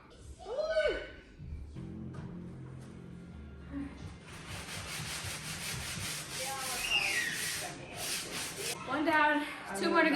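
Steady rubbing and scraping of sanding by hand with a sanding block during a sunroom makeover, continuous strokes, with brief squeaky sounds and a voice at the start.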